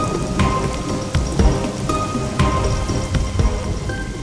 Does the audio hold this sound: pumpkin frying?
no